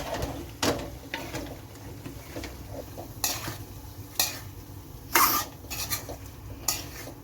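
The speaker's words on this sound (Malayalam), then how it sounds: "ഇനി നമുക്ക് നമ്മൾ നേരത്തെ എടുത്ത് വറുത്ത് വെച്ചിരുന്ന ചിക്കൻ കൂടി ഇതിലേക്ക് ചേർത്ത് നന്നായിട്ട് ഒന്ന് മിക്സ് ചെയ്യാം." Fried chicken pieces stirred into a chicken pickle, with soft sizzling under several loud scraping and clattering strokes of a spoon against the pan, close by and with no voices.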